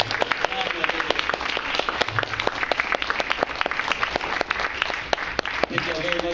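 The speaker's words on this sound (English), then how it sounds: "Please, let's give one more round of applause for all of the debaters." A debate audience gives the debaters a round of applause, with dense, even clapping throughout, sharp individual claps standing out, and faint voices briefly underneath.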